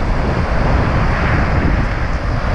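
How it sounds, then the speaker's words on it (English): Strong wind on a beach in Western Australia gives a loud, continuous roar that pummels the microphone for the whole stretch, with no talking. "it is very windy"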